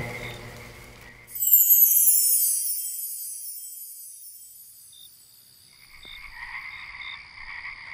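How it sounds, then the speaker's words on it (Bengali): A night chorus of croaking frogs and chirping crickets after rain, swelling with a rushing burst early on, then fading before the calls return. "ব্যাঙ আর ঝিঝির সমবেত কণ্ঠস্বরে রাত মুখর হয়ে উঠেছে"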